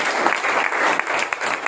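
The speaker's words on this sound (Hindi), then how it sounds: "एक बार अपने लिए शानदार तालियां बजा दीजिए।" Applause from an audience at a sales meeting, a steady wash of many hands clapping at moderate loudness, with a few sharper individual claps standing out near the end.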